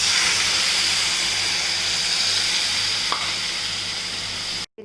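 Sweet corn and rice frying for pulao as water is poured in, giving a steady close, loud sizzling hiss with a bubbling steam roar that holds evenly before cutting off abruptly near the end.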